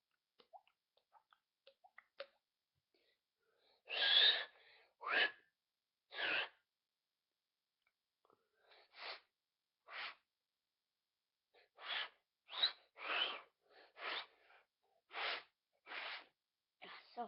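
A person imitating raindrops with the mouth, teeth set and breath blown to make short, separate wet popping drips, about a dozen spaced bursts, close and quiet with no talking.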